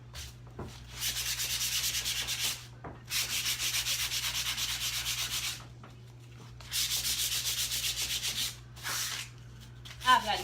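Sandpaper scrubbing a Christmas ornament in long rasping bursts of back-and-forth strokes, about three sustained sessions separated by brief pauses, close and fairly loud over a constant low hum.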